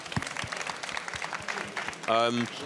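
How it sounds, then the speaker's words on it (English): Audience applause for a tech-careers panel, a loose patter of hands at modest volume, with a voice speaking briefly near the end. "I just want to give them a big clap and say thanks for the time."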